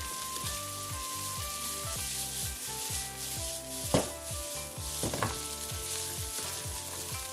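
Salmon fried rice is stir-fried in a wok, with a steady hiss of frying under repeated scraping strokes of a spatula across the pan and a couple of louder clanks, all fairly quiet and close.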